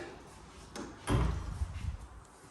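Apartment doors rolling or swinging open indoors: a light knock, then a fuller sliding thud and rumble, close and moderately loud, with no talk.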